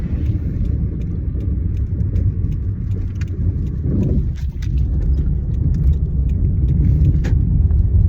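Steady low road rumble inside a moving car, with constant engine and tire drone and faint rattles, and no voices.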